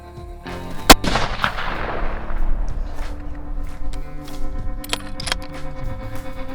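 A single sharp rifle shot rings out on a mule deer hunt in Montana, a close crack followed by a long rolling echo that fades over several seconds, with no voices.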